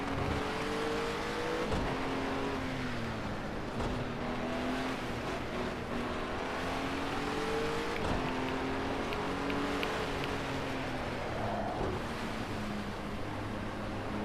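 A BMW Z4 race car in a racing video game drives at speed, its engine note steadily rising and falling through gear shifts, loud and continuous with no other sounds.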